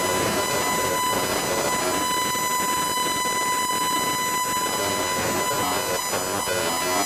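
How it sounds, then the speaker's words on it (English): Ghostly, buzzing walkie-talkie-like voice noise generated in open air by a military laser-induced plasma device, a steady harsh crackle with whining tones lasting throughout, fairly loud and without clear speech. "The second laser's interactions with the plasma are what cause the ghostly walkie-talkie noises like you heard."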